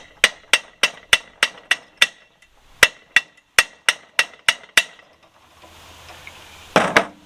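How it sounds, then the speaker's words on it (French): A hammer repeatedly strikes a threaded metal part clamped in a vise, about a dozen sharp, ringing blows at a steady pace, then a pause with a faint scrape and one last heavier knock. "je sors l'étau, je vais prendre un marteau et je vais abîmer volontairement le filetage"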